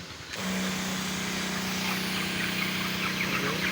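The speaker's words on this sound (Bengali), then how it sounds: "ডবল গিয়ারের মোটর দিয়ে স্প্রে করে দিচ্ছি" A steady hum from a double-gear motor drones continuously at close range, with a broad hiss of mist spraying over a broiler chicken farm running alongside it, loud and unbroken throughout.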